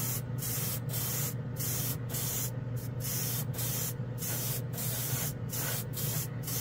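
Airbrush spraying Mr. Color GX paint: a constant close hiss of air and paint over a low compressor hum, interrupted by frequent brief breaks as the trigger is released and pressed again.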